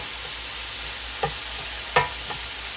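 Beef chopped up and cooking on a hot griddle, a constant hiss of sizzling broken by two or three short spatula scrapes and taps, close and fairly loud.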